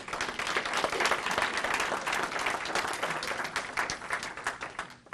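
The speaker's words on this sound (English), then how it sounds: "So I would have you applaud Mr. Jim Joyner." An audience at a drug court graduation ceremony in Cleveland claps steadily for several seconds, a dense, even applause that tapers off at the end.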